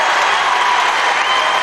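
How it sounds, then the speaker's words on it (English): A crowd at a high school boys basketball game cheers and applauds, a dense, loud, continuous roar of clapping and shouting. "that gets a big rise out of the Southeast of Saline crowd"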